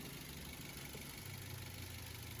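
A car engine idles steadily while waiting for the thermostat to open, with the radiator freshly filled, producing a quiet, even low hum and mechanical rumble with no voices.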